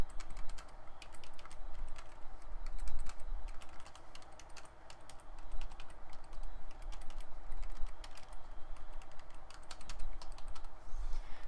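Continuous rapid typing on a Razer Star Wars The Old Republic gaming keyboard with short-travel keys, dense overlapping key clicks at close range with no voices.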